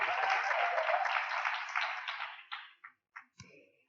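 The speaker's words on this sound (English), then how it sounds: "A round of applause, please, for Ryan." Audience applauding an honoree at an awards ceremony, a steady dense clapping that thins out and breaks into a few scattered final claps near the end.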